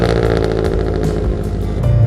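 A 2016 Scion FRS engine idles loudly and steadily on a cold start inside a shop, its close, rough exhaust drone holding throughout with slight fluctuations.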